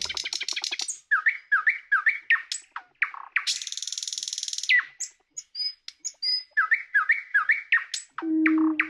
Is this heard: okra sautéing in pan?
no